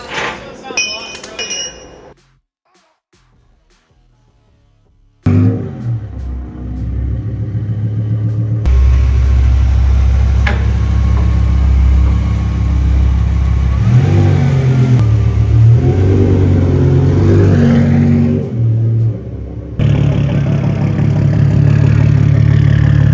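A BMW E60 M5 engine, one of two Outlaw-built cars, runs on a dyno; after a brief silence it roars up and holds a loud, sustained high-rev pull with rising pitch, then settles, with talk early on.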